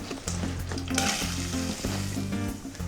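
Onions hit hot olive oil and butter in a pan and sizzle steadily and close up, a busy crackling fry with a few stirring scrapes and clinks. Background music plays underneath.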